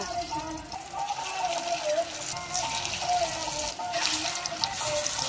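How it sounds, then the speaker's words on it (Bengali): Gedali leaf fritters frying in hot oil give off a steady, close, hissing sizzle that continues evenly throughout with slight bubbling swells. "তেলটা গরম হয়ে গেছে, এগুলি বড়া দিয়ে নেব।"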